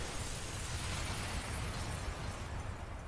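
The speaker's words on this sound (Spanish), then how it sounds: "Una explosión." A loud explosion in the video game Prototype, heard as a sustained, dense burst of rumbling noise that fills the whole span with no clear decay.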